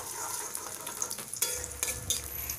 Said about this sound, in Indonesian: Setelah minyaknya panas, langsung saja kita tumis potongan bawang merah dan bawang putih.